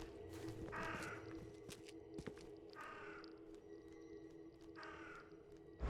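Three crow caws ring out at a moderate distance over a steady ambient drone in The Sinking City video game, spaced roughly two seconds apart with no one speaking.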